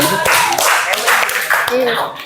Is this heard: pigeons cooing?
no